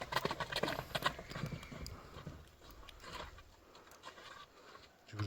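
A black horse with a white blaze trots along a road. The clip-clop of its hooves is loud at first and then fades as it moves away, becoming fainter and more scattered over several seconds.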